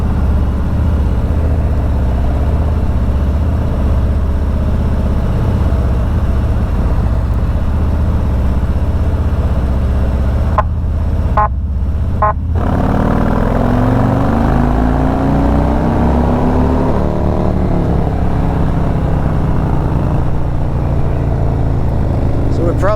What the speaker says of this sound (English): bike has its stock except for Tab performance mufflers with zombie baffles